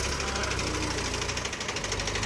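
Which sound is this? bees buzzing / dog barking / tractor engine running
tractor engine running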